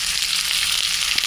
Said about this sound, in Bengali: পেঁয়াজটা সুন্দর মতো ভাজা হয়ে গেছে।